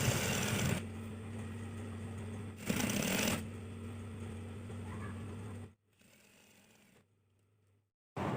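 Sewing machine stitching a trouser seam with piping, running in steady bursts broken by short pauses and a quieter stretch, a close mechanical whir with no voices.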